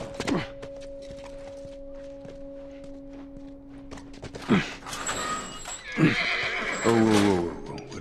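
A horse whinnying in The Last of Us, preceded by hooves, thumps and a low tonal hum; the loud neigh arrives near the end, close and clear, with brief thuds before it.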